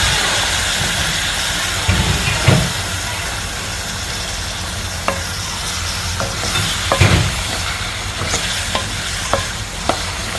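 Water is added to frying spices in a pan while cooking tapsi fish, producing a loud, continuous hissing sizzle with intermittent stirring scrapes and clicks of a utensil.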